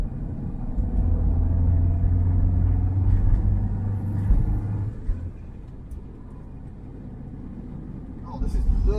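A classic Triumph Mayflower drives along a road, its engine giving a low, steady rumble inside the cabin that eases off partway through, while someone talks over it.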